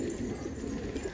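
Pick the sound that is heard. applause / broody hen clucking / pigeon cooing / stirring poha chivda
pigeon cooing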